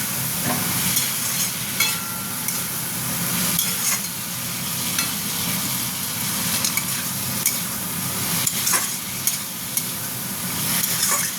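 Yard-long beans stir-frying in a pan with pointed gourd and shrimp give a steady, close sizzle. The spatula scrapes and stirs throughout, with a few sharper clacks, and no one speaks.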